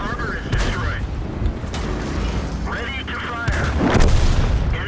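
Tank cannon fire in a World of Tanks-style battle game, several heavy booming shots over constant engine rumble, with someone talking over much of it.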